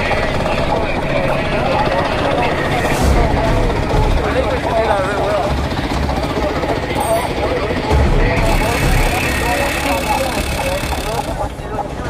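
A racing dirt bike roars past a Baja 500 desert checkpoint, a loud, harsh, continuous engine drone filling the scene with voices faintly under it.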